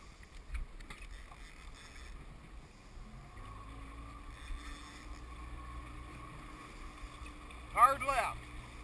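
A low, steady engine drone comes from a small fishing boat under throttle while fishing for tuna, with wind and water noise. Voices call out briefly near the end.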